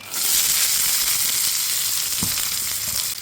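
Chopped shallots and garlic hit hot oil in a frying pan alongside dried chillies, setting off a loud, continuous close sizzle with a few light stirring knocks.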